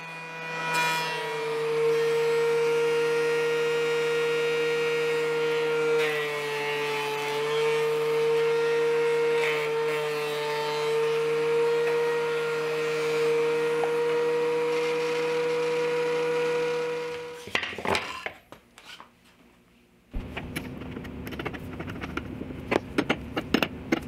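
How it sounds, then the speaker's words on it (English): A wood planer cleans up epoxied wooden pasta paddles with a loud, steady motor whine and cutting drone for most of the stretch, then winds down and gives way to quieter shop noise. "I ran the paddles through the planer to clean them up."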